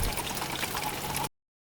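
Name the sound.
water trickling in the forest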